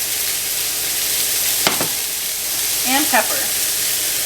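Chopped onions frying in a hot pan for smothered pork chops, a loud steady sizzle and hiss with a brief scrape of stirring, while a voice talks briefly over it.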